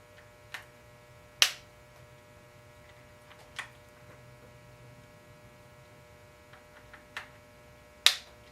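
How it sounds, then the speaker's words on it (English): A torque wrench set to 15 inch-pounds, clicking while screws are fastened for a SwampFox Sentinel sight on a Springfield Hellcat pistol: several sharp, sparse, isolated clicks over a steady low electrical hum, close and quiet. "I have my torque wrench set to 15 inch-pounds."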